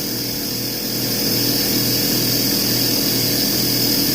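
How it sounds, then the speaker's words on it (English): An air compressor drones steadily at close range, a loud continuous mechanical hum that grows slightly louder after the first second and holds without breaks. "Thank you, Mr. Air Compressor."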